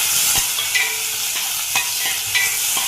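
Garlic frying in oil in a pan while cooking a gongura prawn curry, giving a steady close sizzle with a few sharp spoon taps and scrapes as it is stirred, no voices.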